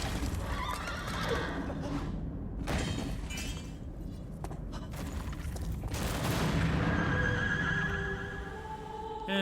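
Horse neighing amid a dense, loud mix of in-game action sounds in Shadow of the Colossus, the whinny surfacing over constant clatter and noise.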